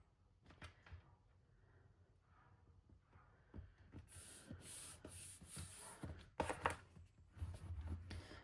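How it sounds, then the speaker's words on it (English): Paper glued onto a classic Pooh album cover is burnished firmly, especially along the edges, giving faint, irregular rubbing and scraping strokes that grow louder and busier toward the end. "Just making sure that I'm giving it a really good burnish again, especially around the edges"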